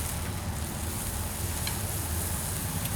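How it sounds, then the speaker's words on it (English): Bacon crackles and sizzles in a pan over an open campfire outdoors, a steady, dense frying hiss that runs unbroken and fairly loud throughout with no voices. "Cook up a lot of bacon."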